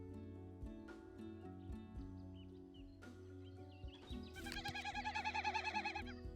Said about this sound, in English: That is a bird call.